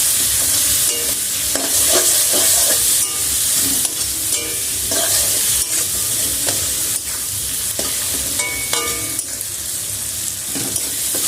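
Tomato masala for egg tadka sizzles loudly in a hot pan while a spoon stirs and scrapes it in irregular strokes, close up and continuous with no voices.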